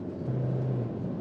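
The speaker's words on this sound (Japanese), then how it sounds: "ハイラックスを運転しております。スピードが上がっていきます。" A Toyota Hilux speeds up on a safari track in Kenya, its engine a steady low rumble with a sustained droning tone that holds for most of the moment before easing off, close and continuous.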